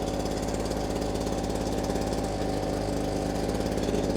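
A Ryobi backpack blower's small two-stroke engine idles steadily and loudly up close, a continuous buzzing drone with a slight uneven flutter and no talking over it.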